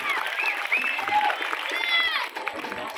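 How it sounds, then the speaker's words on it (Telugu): Students at a school quiz competition clap loudly for the winning group, a busy roll of applause with excited voices and shouts rising above it, then it thins out near the end. "గట్టిగా క్లాప్స్ కొట్టినమ్మ వాళ్ళకి."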